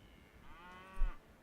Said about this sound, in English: I hear red cows aren't a great omen, Scott.